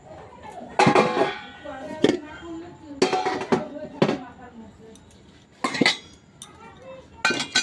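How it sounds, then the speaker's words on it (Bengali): Dishes, pots and cutlery being sorted and put away at home, with scattered clinks and clatters in irregular bursts, close and moderately loud, between quieter stretches. "আমি বাসনগুলো গুছাচ্ছিলাম"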